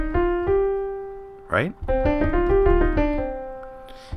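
The first five notes of a minor scale played low on a sustained pitched instrument, stepping through distinct held tones. A brief spoken word breaks in midway before the notes continue.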